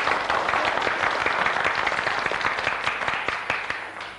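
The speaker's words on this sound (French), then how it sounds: "On peut faire un essai d'applaudissements, s'il vous plaît, une fois." Studio audience at a French television game show claps in a test round of applause, a dense, steady burst of many hands lasting a few seconds and fading slightly at the end.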